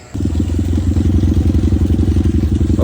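A motorcycle engine running steadily at a mechanic's shop during a check-up, a loud, close, rhythmic mid-pitched putter with faint clatter and no voices.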